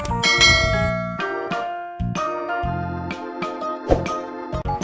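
Bright bell and chime tones ring out in a short, melodic sequence of separate strikes with lingering tails, clean and close with no speech.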